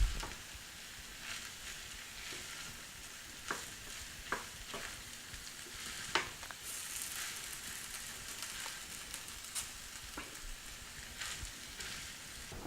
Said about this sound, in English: just stir the whole thing together